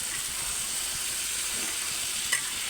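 Potato and ridge gourd frying in a pan with oil, a steady bright sizzle hissing continuously up close, with a faint stir near the end.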